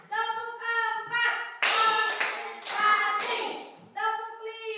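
A classroom of children claps hands together in a set rhythmic pattern, bursts of sharp claps alternating with chanted voices, loud and close.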